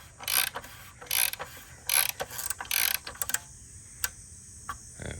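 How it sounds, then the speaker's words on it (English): A ratchet wrench tightens the oil filter cap on a Jeep, its pawl clicking in several quick bursts of rapid ticks, close and fairly quiet, then a few lone clicks. "Wrench it to tighten."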